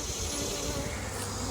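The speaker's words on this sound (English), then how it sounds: "I've got bees trying to get in every crack, crevice." Honey bees swarm around hive equipment at a bee yard, a steady dense buzzing hum that stays constant and close throughout, with no pauses.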